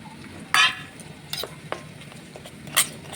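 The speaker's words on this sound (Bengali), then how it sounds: "নেড়ে চেড়ে ভালো করে মিক্সড করে নিলাম" A spoon stirs a spice paste of salt, chili, turmeric, mustard, ginger-garlic and cumin in a pan, giving scattered scrapes and clinks with faint sizzling between them.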